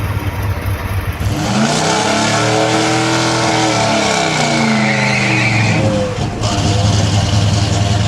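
A 1958 Edsel and a 2018 Tesla drag race on a strip, with a loud engine roar that climbs in pitch through the gears, close and continuous, plus a high whine partway through.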